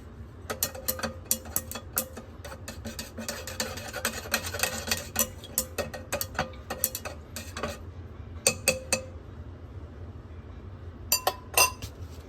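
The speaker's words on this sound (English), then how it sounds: "Let's give it a quick stir." Aluminum stirred in hydrochloric acid inside a glass container during silver recovery, producing irregular clinking and rattling taps of metal against glass, close, in clustered bursts with pauses between.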